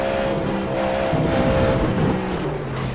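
A race car in the iRacing sim racing game drones along at speed, its engine holding a steady, loud tone throughout with a slight rise and fall in pitch.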